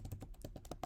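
Rapid clacking keystrokes on a computer keyboard, close and fairly steady, about eight distinct taps in under a second with no voices.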